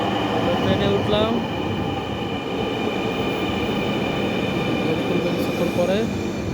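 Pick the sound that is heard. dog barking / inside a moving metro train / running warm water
inside a moving metro train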